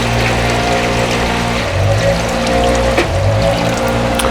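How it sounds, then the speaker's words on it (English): Water is poured slowly into the reservoir of a Slow 'N Sear insert on a Weber grill, a steady close trickle and splash under a loud, constant background hum. "Just pour that in there slowly to avoid any spilling if you can"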